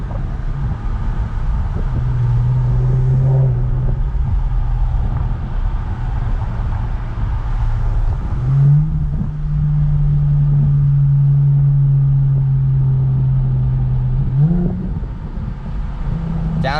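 An Infiniti Q50 fitted with Megan Racing downpipes revs and downshifts from inside the cabin, with a loud, steady engine drone that climbs in pitch through two long pulls, broken by a sharp rev change between them.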